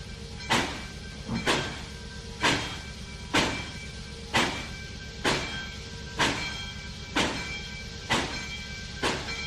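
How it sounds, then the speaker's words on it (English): Steam locomotive in the Trainz 2019 train simulator game, on a C&O line near Hinton, giving about ten evenly spaced loud chuffs, each a sharp hissing burst with a slow steady rhythm. "Love the chuff chuff sound."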